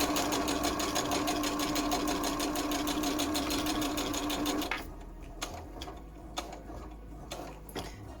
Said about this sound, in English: There we go, some more exciting real-time sewing for you.